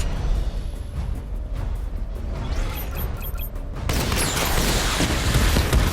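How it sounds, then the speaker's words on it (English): Batman's missile barrage firing in Batman: Arkham Knight, a sudden dense burst of rumbling launches and impacts midway that continues loudly over steady game ambience. "Missile barrage level 2 ready."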